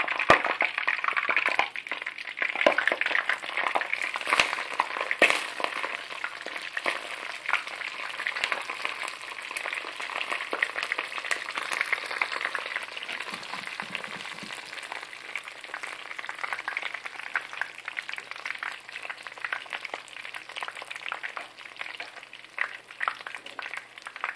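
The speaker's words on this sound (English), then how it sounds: "I will definitely show you the frying process" Food sizzles and crackles steadily in hot oil, with a continuous hiss and scattered pops lasting throughout, close and fairly loud.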